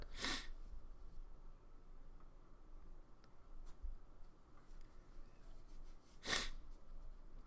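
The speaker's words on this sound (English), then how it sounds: "I'm gonna sneeze." Two sharp sneezes, one at the start and another near the end, standing out over a quiet, faintly rustling background with no talking.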